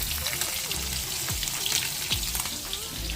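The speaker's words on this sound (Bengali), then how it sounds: "এখন মাছ ভাজা করছি" Fish fries in a pan of oil, a soft, continuous sizzle with faint crackles heard fairly quietly at close range, with some low background noise.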